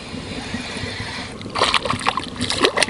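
A hooked perch thrashes at the surface of a pond, sending up close, choppy splashes and sloshing water in short bursts that follow a quieter stretch.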